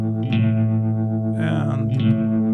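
A reverb effect on a clean-to-crunch digital guitar amp built with Melda MXXX, a sustained distorted chord with long wash that shifts from mono into the stereo field, loud and continuous with a brief brighter swell midway.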